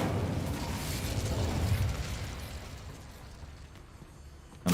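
A fire spell called Incendio is cast in a video game, giving a loud whooshing, crackling burst that swells and then fades over a couple of seconds, ending in a sharp short pop.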